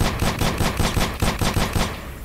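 Rapid shotgun blasts in the survival video game Sos Survival, about nine heavy booming shots fired in quick, even succession, loud and close, with no talk over them.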